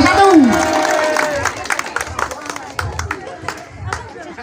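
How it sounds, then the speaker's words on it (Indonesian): Crowd applause and scattered clapping for the first-place team at a rowing race final award ceremony, steady and moderately loud with a rising tone at the start and crowd murmur throughout. "Kita beri tepuk tangan dulu kepada juara 1."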